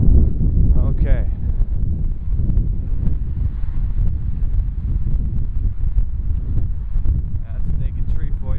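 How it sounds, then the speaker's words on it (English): Strong gusting wind sweeping through a park after Hurricane Irene, a steady low roar buffeting the microphone throughout while a person talks over it. "the wind hasn't died down yet"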